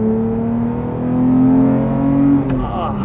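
Manual Porsche 911 GT3 (991.2) with a 4-liter flat-six engine revving hard toward 9,000 RPM, a loud climbing wail that holds, then drops sharply on a shift near the end.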